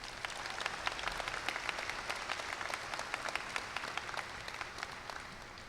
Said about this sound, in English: Can we get a round of applause for all the teachers out there